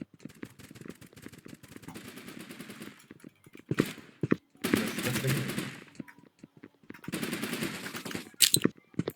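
Bursts of rapid automatic gunfire from the PC game Blockpost, with short pauses between volleys and faint clicking between them.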